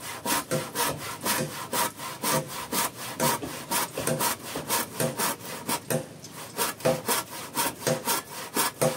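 A handsaw cuts through a fresh piece of wood with steady, rhythmic back-and-forth strokes, about two rasping strokes per second, loud and close, with one brief pause partway through and no talking.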